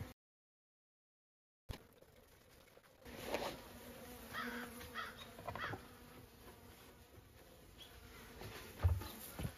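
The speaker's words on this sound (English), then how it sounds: "The bees are kind of freaking out right now." Agitated bees buzz around hives being moved into a bee tent for winter, a constant faint drone close by, with a few louder passes and bumps after a brief silent start.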